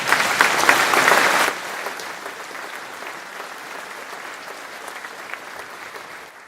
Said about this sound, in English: Can we have a small applause?